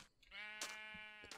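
Sheep in the Minecraft video game bleat with one drawn-out, wavering cry that fills most of the moment, loud and close, with a brief second bleat starting at the end.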